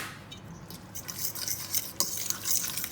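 Guacamole with lime juice and chopped coriander is mixed in a bowl, giving soft, wet stirring and scraping sounds at close range with a few light clinks, with no talking.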